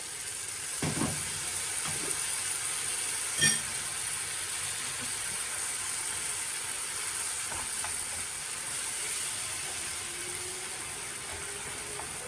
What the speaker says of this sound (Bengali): এখন এখানে দিয়ে দিলাম মশলাটা কষানো হোক